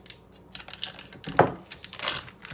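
Plastic tofu package torn and peeled open in a home kitchen, a few quick crinkling and snapping bursts with a louder tear in the middle, close and alone.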